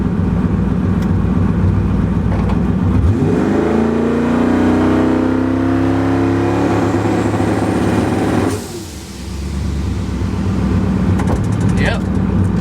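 Car with a single turbo 2V engine setup on a test drive: a loud engine drone climbs in pitch as it accelerates hard, then drops off abruptly as the throttle lifts, with road and wind noise beneath.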